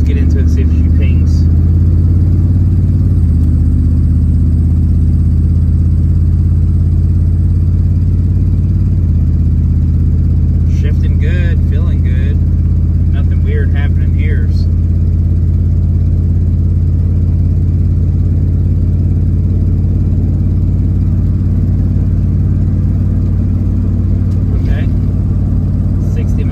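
A car pulls away smoothly from a stop, its steady low engine drone running loud and continuous throughout, with a voice talking over it.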